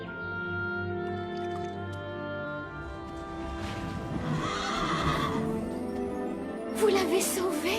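A horse whinnies loudly and at length in a cartoon scene, with hoof clip-clops and wet squishing sounds beneath, ending in a brighter burst of noise.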